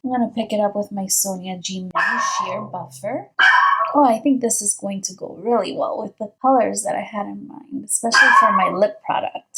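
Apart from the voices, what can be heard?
dog barking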